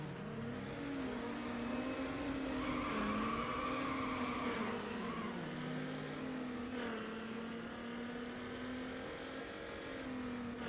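Engines droning and shifting pitch during a drag race in the Need For Speed Underground video game, a steady mid-level engine tone that rises and drops through gear changes, continuous throughout without speech.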